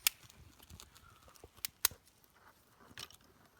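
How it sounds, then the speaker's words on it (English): A small campfire lit with a fire starter burns in snow on a cold backpacking night, giving faint, sparse pops and sharp crackles over a quiet background. "pretty good fire starter so far. At least that's burning."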